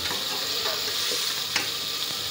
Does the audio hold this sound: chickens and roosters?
no